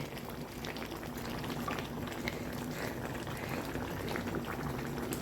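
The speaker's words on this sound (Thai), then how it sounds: "เดือดพุกพุกพุกพุกคงสุกแล้ว" A tilapia coconut-milk curry with winter melon boils steadily in a pan, giving a dense continuous bubbling and gurgling at moderate volume, with no voices over it.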